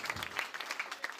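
An audience claps after a face-changing performance, a short burst of quick, dense applause at moderate distance.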